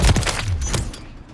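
Gunfire in Call of Duty Modern Warfare III: a quick burst of several close, punchy shots with a booming low thud, fading out within about a second.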